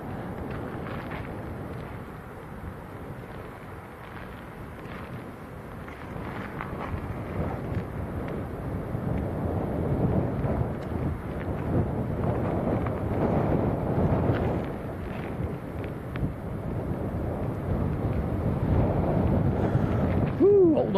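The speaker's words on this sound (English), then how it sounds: "Hold on to the tripod, it's actually quite breezy this morning." Gusty morning breeze buffets a microphone at an airport planespotting spot on Lanzarote, a continuous low rumbling roar that swells and eases in waves for the whole stretch, with no voices.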